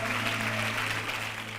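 Congregation in a church applauding steadily throughout, a dense even wash of clapping with a low steady hum underneath.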